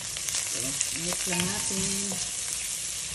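Garlic and onion sautéing until golden brown in a pan for a pork ribs dish, steady close sizzling and stirring throughout, with a voice speaking briefly over it.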